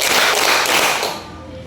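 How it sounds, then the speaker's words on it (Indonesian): A class clapping together in a classroom clap game, a short dense burst of many hands clapping at once, loud and close, fading out toward the end. "tunggu semua tepuk tangan"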